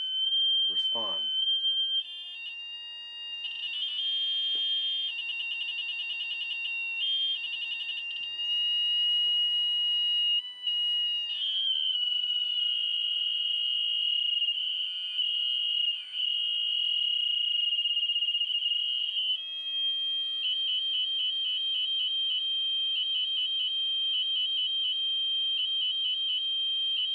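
A piezo buzzer driven by a Joule ringer circuit sounds a continuous, loud high-pitched electronic tone for the whole stretch, with the pitch stepping and warbling as the circuit is tuned, and rapid pulsing near the end.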